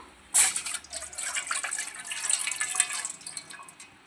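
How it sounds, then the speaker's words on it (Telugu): Water pours steadily into a metal rice cooker pot on the stove with a bright, splashing hiss that starts abruptly and continues for several seconds. "వాటర్ పోసుకుంటున్నాను"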